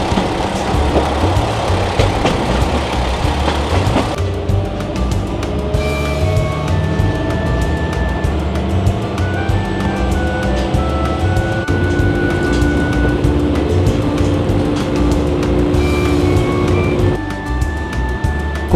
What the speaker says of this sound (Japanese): 続いてこっちの列車も出雲稲荷を出発します。